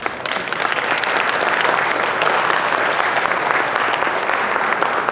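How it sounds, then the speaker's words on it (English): Loud, sustained applause from a seminar audience, a thick unbroken roar of clapping filling the whole stretch at an even level, with no talk over it. "give a big round of applause."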